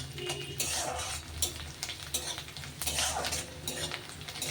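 Ginger and garlic sautéing in a hot pan for a dhaba-style chana dal and bottle gourd kootu, a steady close sizzle with spoon scrapes and stirring clatter throughout, no talk.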